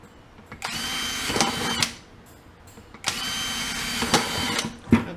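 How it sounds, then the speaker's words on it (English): A power drill whirs in two sustained bursts, each about a second and a half long, with a short pause between and faint clicks near the end. "She likes to use the drill."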